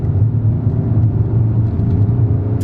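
A steady, loud engine roar with a low rumble fills the clip, a 2019 BMW X7 xDrive30d diesel SUV accelerating hard, heard from inside the cabin.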